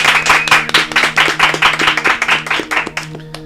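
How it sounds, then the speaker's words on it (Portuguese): Rhythmic, close clapping from an audience welcoming two guests onstage, with steady beats over a low hum and some voices underneath. "eu quero que vocês recebam com forte aplauso Flávio Augusto e Thiago Nigro"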